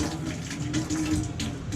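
Water runs steadily from a faucet aboard a sailboat to purge air from the lines, a continuous splashing flow with faint sputtering, close and fairly quiet.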